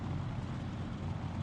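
A Corsair's propeller engine drones steadily in a DCS flight simulator, a dense continuous low rumble at even loudness with no talk over it.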